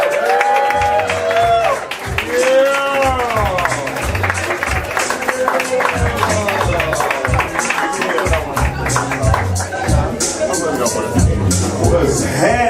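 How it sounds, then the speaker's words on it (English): Audience at an open mic poetry night in a café claps, cheers and whoops in a lively, continuous burst, with excited voices and chatter mixed throughout. "Give a round of applause for the brothers of sin."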